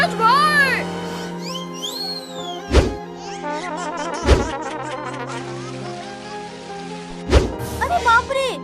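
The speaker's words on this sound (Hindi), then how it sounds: "अरे बाप रे, यहाँ बरसात कैसे हो गई?" Cartoon water splashing down like a sudden burst of rain, a bright comic effect with sharp thunks and whooshing sweeps, set under excited children's voices and playful cartoon music.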